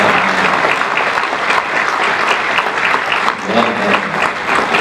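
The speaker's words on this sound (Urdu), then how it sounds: "پھر تالیاں بجائیے آپ خدا کے لیے." Audience applause at a mushaira (Urdu poetry recital) in Chandigarh, steady and sustained dense clapping from a large crowd filling the whole stretch, loud and close with no pause.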